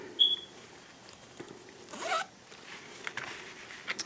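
A zipper on a handmade shabby-style wedding handbag is worked back and forth, giving a few short scratchy zips and a clear longer pull midway, close and quiet with faint handling sounds and no talk.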